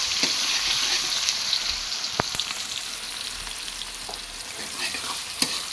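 Onions frying in a pan for a small fish, cauliflower and tomato dish, a steady close sizzle broken by occasional stirring scrapes and a few sharp clicks, with no talk.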